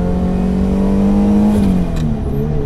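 A turbocharged Ferrari 308 making about 570 wheel horsepower accelerates: a loud, close, steady engine drone rising slightly in pitch, with a brief whoosh near the end.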